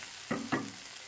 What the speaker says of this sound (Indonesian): Tumis kembali hingga agak kering